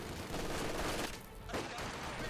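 Mortar fire in Company of Heroes 2 sounds as dense, rolling bursts of explosions and gunfire, loud and continuous, briefly thinning in the middle, within a busy battle mix.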